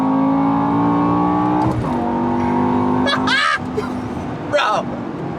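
A BMW E60 M5 revs hard with its exhaust valves open, a loud sustained engine howl that dips and rises again, with excited voices shouting over it.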